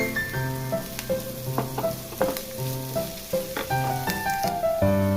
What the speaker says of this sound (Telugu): ఆనియన్స్ అనేటివి ఇక్కడ మంచిగా మనకి ఫ్రై అవ్వాలి